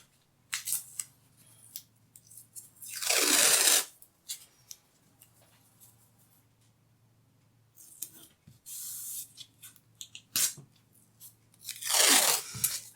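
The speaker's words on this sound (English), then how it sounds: "just to get my masking tape and stick that tape" Masking tape rips off a roll in three loud, tearing bursts, each a second or so long, with softer rubbing and pressing between them as the strips are stuck onto a lino print registration frame; no talking.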